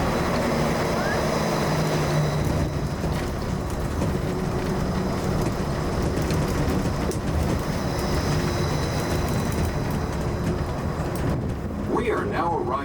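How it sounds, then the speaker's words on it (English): Disneyland monorail train gliding along its elevated track, a steady continuous rumble and hum of the ride heard from inside the car, with a recorded announcement voice over it. "Please remain seated until the monorail comes to a complete stop and the doors have opened."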